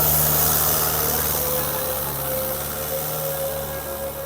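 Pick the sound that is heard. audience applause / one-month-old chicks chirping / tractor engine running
tractor engine running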